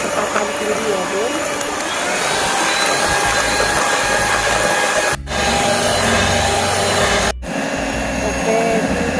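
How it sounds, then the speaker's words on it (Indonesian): An electric mixer whirs loudly and continuously at high speed, beating pandan sponge cake batter, with two brief cutouts partway through. "Oke, langsung kita mixer ya."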